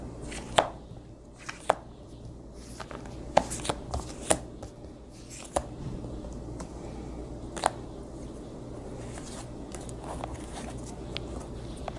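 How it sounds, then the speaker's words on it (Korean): Tarot cards being drawn and handled, giving a scattered series of sharp, close taps and soft flicks over a quiet background, with no talking. "먼저 첫 번째 카드 7장 뽑을게요."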